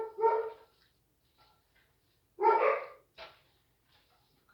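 Dogs bark in two sharp bursts with a few softer yips between them, close by in a quiet room.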